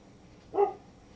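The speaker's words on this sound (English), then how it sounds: "Of course Pete's gonna bark" One short dog bark, moderately loud and slightly distant, stands alone against a quiet background.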